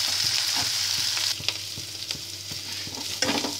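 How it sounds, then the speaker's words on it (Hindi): Onions and chopped green chillies fry in a pan for a Punjabi chole tadka, a loud, steady sizzle marked by regular ladle taps and scrapes from close by. "प्याज में बिल्कुल गोल्डन ब्राउन कर लेंगे, नाली के बीच में हरी मिर्च कटी हुई ऐड कर दे रही हूँ।"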